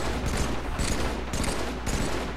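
Rapid gunfire in Halo comes in repeated bursts roughly half a second apart, loud, dense and close over a constant background roar of vehicle and battle noise.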